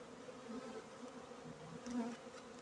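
A dense, low hum of many honeybees buzzing together in a hive, steady and close, swelling slightly at moments with no voices.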